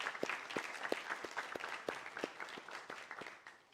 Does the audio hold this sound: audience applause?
yes